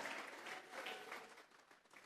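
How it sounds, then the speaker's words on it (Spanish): A church congregation clapping together during a Spanish-language worship service, a continuous ripple of applause heard faint and distant, with no talk over it. "Vamos a regalarle ofrenda de palmas al Dios de la gloria."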